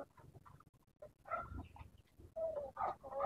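Shamo chickens in a yard, clucking and squawking in short, uneven bursts at close range, several birds calling over one another.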